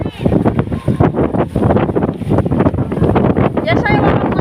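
Strong, cold wind buffets the microphone in loud continuous gusts near water around a boat, with a person speaking intermittently over the roar.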